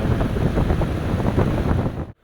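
Steady, loud rushing of air from an electric fan running at its highest setting, broadband and continuous, cutting off abruptly at the end.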